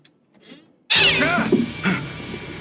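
A loud, sudden cat meow from the horror video game The Devil in Me, a drawn-out, wavering caterwaul that bursts in after near silence and dominates the moment as a jumpscare.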